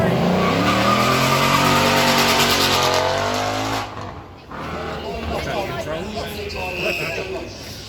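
A supercar burns rubber at a live demo, sending a loud, sustained tire squeal mixed with revving engine that cuts off abruptly, followed by crowd noise and a voice talking.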